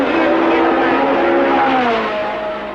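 Formula 1 race cars at the 1967 German Grand Prix, engines droning loudly and continuously with shifting pitch as they pass, a commentator talking over them throughout.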